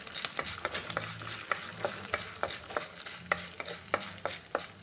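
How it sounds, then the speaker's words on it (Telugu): Coriander seeds and urad dal are stirred dry in a pan, a soft steady scraping and rustling with regular spoon strokes, close by and alone. "కొద్దిగా ధనియాలు, ఒక రెండు స్పూన్ల మినపగుళ్ళు వేసుకుందాం। కొద్దిగా వేయించాక"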